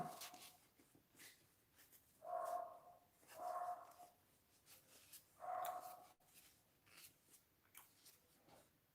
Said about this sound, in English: Those are my dogs. They want me to open for them.